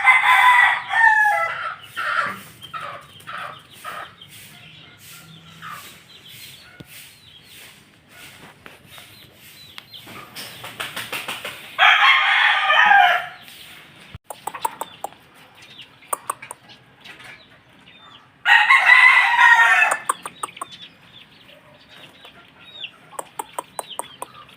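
White kelso gamefowl roosters crow loudly in several long calls, with a steady stream of clucks and short chirps between them, nearby and outdoors.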